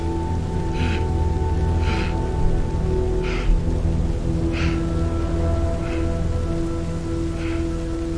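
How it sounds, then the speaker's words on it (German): Rain falls steadily in Red Dead Redemption 2, a constant loud hiss of drops on the ground, with faint periodic soft splashes and a low background tone throughout. "Und ich stehe im Regen."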